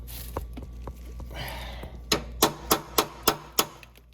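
Hammer blows ring out while an exhaust system is replaced on a 2009–2014 Nissan Maxima: a few light taps, then six sharp, loud metallic strikes in a steady rhythm, close to the microphone.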